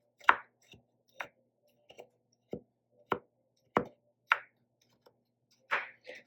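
A knife chops chocolate into smaller pieces for a cake batter, about a dozen sharp, separate thuds on a board at an uneven pace against near silence.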